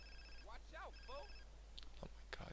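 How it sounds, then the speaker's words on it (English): A mobile phone ringtone chirps in repeated short melodic bursts somewhere in an event audience, faint and distant over low background hum, with brief voices near the end. "Who is their phone ringing?"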